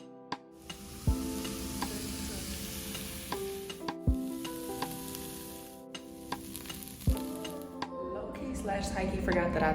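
Mushrooms sautéing in a pan, with a steady close sizzle and periodic sharp clicks of stirring, continuing for several seconds under background music.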